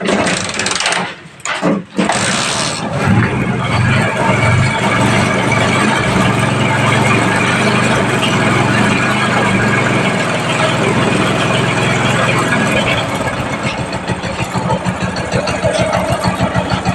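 A Bajaj Discover motorcycle engine, recently fitted with a new camshaft, sputters briefly as it starts and then settles into a loud, steady idle with a busy mechanical clatter that runs unbroken to the end.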